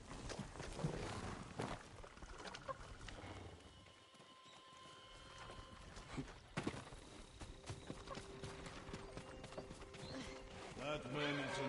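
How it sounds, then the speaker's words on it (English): Horses walking on a road or track, hooves clip-clopping in a steady rhythm under ongoing talk and background ambience, with an occasional whinny audible. "Follow those horses."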